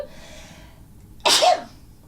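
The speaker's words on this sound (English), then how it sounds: "I sneezed" A single sharp human sneeze bursts out suddenly after a quiet stretch of room tone, loud and brief, then fades quickly.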